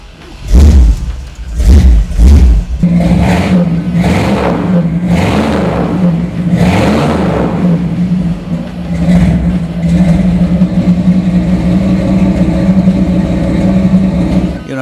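A 1964 Chevrolet Impala SS with a 409 V8 cranks over and fires up, blips its throttle in several loud revs, then settles into a deep, steady, lumpy idle, close and powerful.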